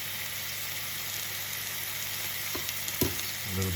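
A steak of standard thickness sizzles steadily in a hot pan, a constant close frying hiss, with a couple of brief clinks and scrapes near the end as it is turned over.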